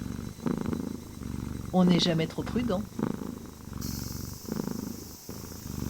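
A cat purrs softly and continuously under a voice narrating in French.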